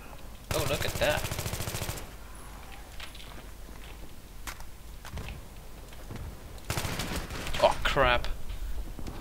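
Battlefield 3 gunfire in close-quarters conquest play, with rapid automatic rifle bursts and shotgun-like blasts coming in two heavy clusters among scattered single shots, while a player talks over the action.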